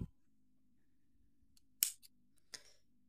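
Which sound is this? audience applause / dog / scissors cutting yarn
scissors cutting yarn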